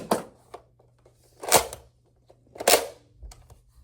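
A Nerf Arctic Zerostriker blaster fires N1 darts, giving sharp, close pops with handling clicks in between, three main shots spaced roughly a second apart.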